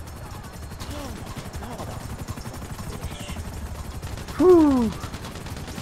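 Rapid gunfire crackles faintly and steadily in GTA V Online as a player shoots from the back of a moving vehicle during a chase, with a brief spoken exclamation over the shots.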